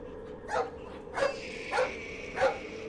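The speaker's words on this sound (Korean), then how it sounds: "더욱더 미친 듯이 짖어대기만 했습니다." A dog barks four times in a steady, evenly spaced run, each bark loud and sharp over a constant low hum, with no talking.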